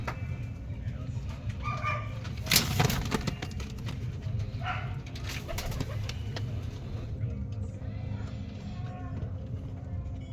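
Pigeons coo softly at close range in a home loft, with low murmuring calls, some wing flutters and sharp taps, over a steady low background hum.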